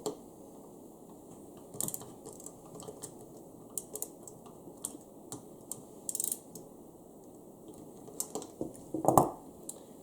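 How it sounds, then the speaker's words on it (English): Action bolts torqued into an MDT HS3 chassis on a Remington long-action rifle, giving faint, sparse mechanical clicks and ratcheting ticks spaced irregularly over a quiet background, with no talking. "you're going to want to torque your action bolts to 65 inch-pounds"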